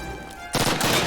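Mosin rifle gunfire in Call of Duty 1, a sudden loud burst of shots cracking in after a quieter moment of game ambience.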